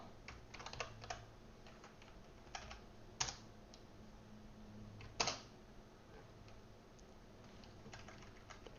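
Someone types code on a computer keyboard, with soft, irregular clicks and a couple of sharper key strikes standing out among scattered quiet taps, close by and otherwise quiet.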